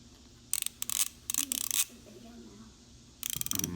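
A Tekton composite ratchet clicks in quick rattling bursts of several close-up clicks, with pauses in between where the handle swings back, and a quiet voice talks in the background.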